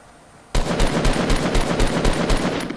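Rapid automatic gunfire in a Fortnite Battle Royale match, starting abruptly after a quiet moment and continuing as a steady, loud stream of evenly spaced shots to the end.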